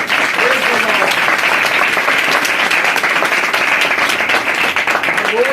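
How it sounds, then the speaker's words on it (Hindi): A church congregation at a Sunday worship meeting breaks into loud, dense applause, a continuous wash of many hands clapping that holds at full strength throughout, with a faint voice underneath. "जोरदार तालियां"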